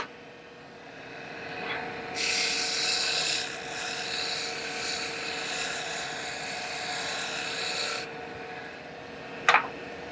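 Wood turning on a lathe for a Kubb game piece: a steady mechanical hum, then a loud sustained rasping cut for about six seconds, stopping abruptly, with a brief scrape near the end.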